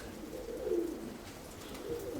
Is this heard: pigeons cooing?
yes